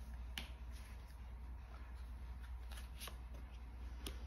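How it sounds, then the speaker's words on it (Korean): Tarot cards being shuffled and drawn produce faint, soft papery riffles and several sharp little snaps of cards, spaced irregularly over a quiet low hum, close but low in level. "제가 추가 카드로 카드를 한번 뽑아볼게요"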